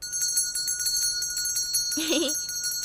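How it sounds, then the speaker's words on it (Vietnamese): A hand bell rings indoors in a short, bright burst of jingling lasting about half a second, heard over a quiet room with a faint electronic hum. "khi nào mà nghe anh Kỳ Phương lắc chuông á thì mới được ra"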